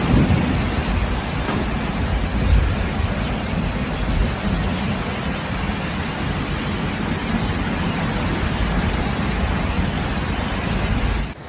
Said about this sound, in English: Repeated bands of thunderstorms moved across the region, resulting in continuous rainfall